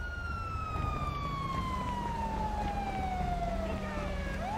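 Several police sirens wail in a Grand Theft Auto Online heist mission, one long descending tone standing out over steady game noise, loud and continuous with no talk.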